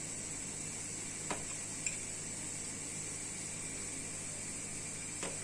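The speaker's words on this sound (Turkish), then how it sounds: "Evet soğanlarım kavruldu." White onions sautéing in a pan give a steady, soft sizzle throughout, with a few faint clicks of a utensil against the pan and no talking.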